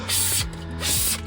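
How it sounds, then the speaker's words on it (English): A spray bottle pumping rust prevention under a Ford Transit minibus, two hissing spray bursts in quick succession with mechanical trigger clicks, close and loud. "So spray bottle itself is pretty good."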